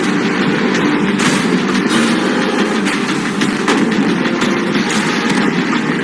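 Gunfire cracks repeatedly at a money container in a competition game, dense and loud with sharp broadband bursts over steady background noise.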